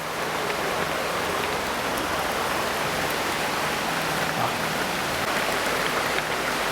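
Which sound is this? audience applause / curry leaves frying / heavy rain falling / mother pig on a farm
heavy rain falling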